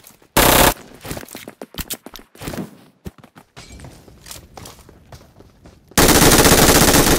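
Gunfire in the PUBG Mobile video game, with dense automatic bursts at the start and end and scattered single shots and clatter between them, loud and close with no talking.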